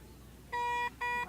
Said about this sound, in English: That is what a brand new Fonzie beep ball sounds like